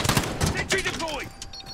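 A deployed sentry gun firing in Call of Duty: Modern Warfare, a quick rattle of automatic shots at the start followed by whooshing, pinging game effects, with brief voice lines in the mix.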